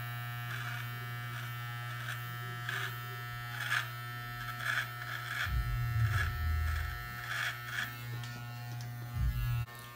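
Electric beard trimmer buzzing steadily while lining up a beard along the jawline, a constant close hum with the motor note dipping and roughening as the blades press against the hair near the end.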